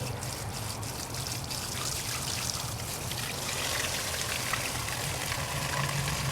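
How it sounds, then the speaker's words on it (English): Water and antifreeze trickling and splashing steadily out of the opened drain on a Ford 8N tractor radiator, a close, continuous dribble with no talk. "we're going to go ahead and let the water out of here"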